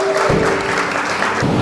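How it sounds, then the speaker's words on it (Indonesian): Applause from a church congregation at an Indonesian sermon, a dense wash of many hands clapping close and fairly loud, with a faint steady tone running underneath. "Beri tepuk tangan buat mereka."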